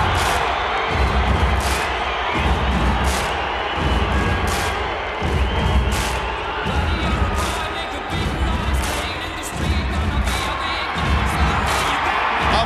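Large boxing arena crowd roaring and cheering continuously before the Oscar De La Hoya vs Fernando Vargas fight, a dense, loud wall of sound with occasional thumps and bursts rising out of the steady din.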